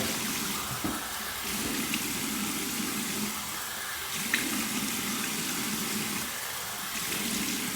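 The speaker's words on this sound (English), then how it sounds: "cup my hands, and run some cold water over my head" Cold tap water runs steadily into a bathroom sink as someone rinses a freshly shaved head, making a close, continuous rush with splashing surges every few seconds as hands cup the water.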